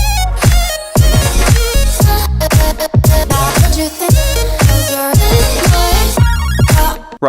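Electronic dance drop from a track, built on a chopped vocal sample over punchy, steady beats, loud and dense with a bright high stutter near the end and no talking.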